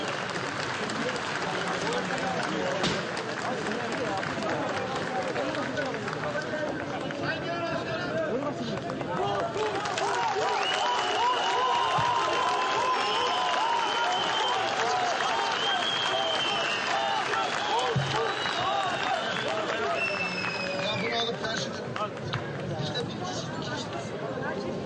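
Sustained audience applause at an outdoor nationalist political rally in Alanya, Antalya, a steady dense wash of clapping from a large crowd with some cheering, continuous and fairly loud throughout.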